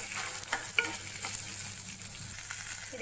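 Shallots sauté in a pan for horse gram chutney, giving a steady close sizzle with frequent light scrapes and taps of a stirring spoon.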